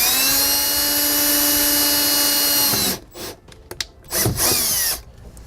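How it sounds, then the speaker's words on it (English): A power drill fitted with a 19/64 bit bores a hole in the dashboard of a 2018 Jeep JL Wrangler, a steady high motor whine for about three seconds, then stopping, followed by a few short bursts and clatters. "So we'll find the spot on our dash that we want to drill for our light, and we'll drill our hole."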